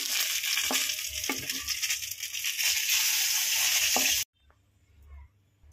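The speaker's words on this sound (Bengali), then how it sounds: "এখন আমি বেগুনগুলো একটু ভেজে নিব।" Brinjal pieces frying in hot mustard oil, a loud, steady close-up sizzle with occasional spatters that stops abruptly, leaving a quiet room.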